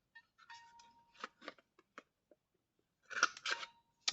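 Scissors cut paper for crafting tags and cards, a series of close, crisp snips and rustles in a quiet room, spaced irregularly with a brief pause before a final cluster of cuts.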